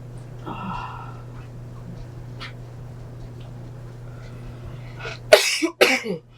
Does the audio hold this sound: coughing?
yes